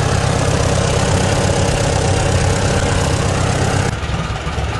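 A Farmall A tractor engine idles steadily up close with a low, chugging rumble that holds even throughout, with no voices.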